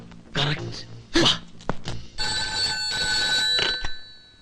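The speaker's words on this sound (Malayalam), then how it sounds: "വർമ്മയെ ഉടനെ ഫോൺ വിളിച്ച് വിവരം പറയാം." In a comedy film scene, someone talks briefly before a steady electronic telephone ring sounds over a call, holding for about two seconds with short gaps.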